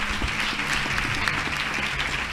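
Audience applause at a cultural panel talk fills the room, a dense, steady clatter of many hands clapping at even volume throughout with no speech over it.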